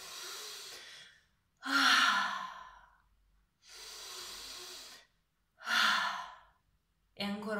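Slow deep breaths taken one after another, long audible inhales alternating with fuller sighing exhales, close and clear with quiet pauses between and no talking.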